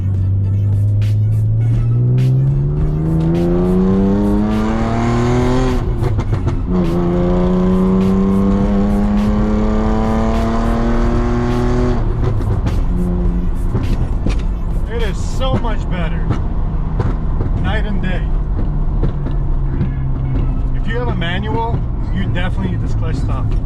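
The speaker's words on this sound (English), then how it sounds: "I'm going to take the car for a spin right now" A manual car fitted with a new clutch stop is driven hard, its engine revving up through the gears in rising sweeps with shifts between them, loud and close inside the cabin over road rumble.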